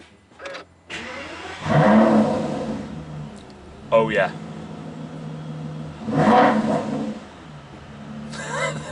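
An Aston Martin V12 Vantage S Roadster fires up inside a barn, its V12 catching and then blipping through several loud revs that rise and fall, with a brief spoken exclamation over the engine.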